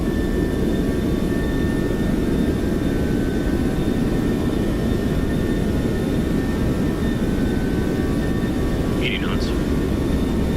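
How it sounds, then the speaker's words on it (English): Boeing 737-600 jet engines spooled up to takeoff thrust in the X-Plane flight simulator, heard as a loud, steady, dense roar for the whole stretch with a faint brief chirp near the end. "set takeoff thrust"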